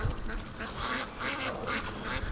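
Free-range ducks on a farm quack in a run of raspy, repeated calls at moderate distance, coming in short regular bursts with no talk over them.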